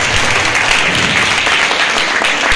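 At a Christmas program, an audience breaks into loud, dense applause for children, a continuous wash of clapping with no gaps.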